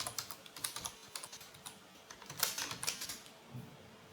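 Quick, irregular clicks of fingers typing a password on a computer keyboard, close and fairly quiet, with short pauses between bursts of keystrokes.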